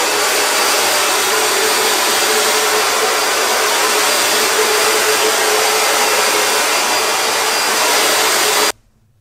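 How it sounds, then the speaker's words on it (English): A hair dryer runs steadily at close range for about nine seconds, its loud broadband blowing constant as hair is dried in every direction, then it cuts off abruptly. "this is what happens when you dry your hair just in every single direction"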